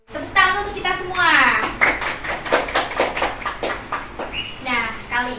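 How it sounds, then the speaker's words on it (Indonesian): A primary classroom group claps in a rhythmic patterned sequence of sharp taps, with children's voices chanting along throughout. "Tepuk tangan untuk kita semua"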